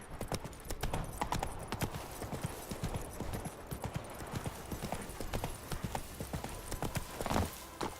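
Roach the horse gallops uphill in the Witcher 3 video game, a steady rapid clip-clop of hooves running throughout at a close, even level.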